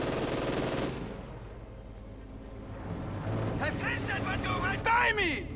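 Bursts of MG42 machine-gun fire in the video game Company of Heroes 2 rattle against a battle din of explosions and effects, partly under a commentator's voice.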